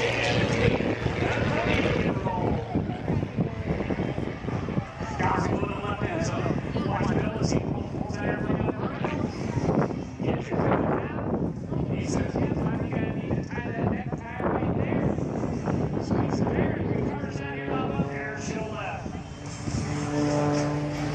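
A Zivko Edge 540 aerobatic airplane performs at the Battle Creek Airshow, its propeller engine droning steadily throughout as an announcer talks continuously over a loudspeaker.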